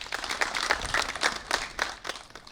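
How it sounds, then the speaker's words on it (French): Applause from the Health Minister for hospital medical staff during the coronavirus outbreak in Benin: a short burst of steady, moderately close hand clapping from a small group. "Elle reçoit les applaudissements du ministre de la Santé qui est allé lui remonter le moral."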